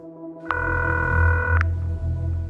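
A single telephone dialing tone, a steady electronic beep lasting about a second over a low background hum, clear and close, with no voices.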